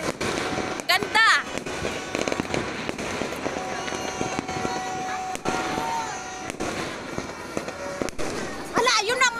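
New Year's fireworks bang and crackle repeatedly, with whistling rockets rising among the bursts, while people talk and exclaim throughout.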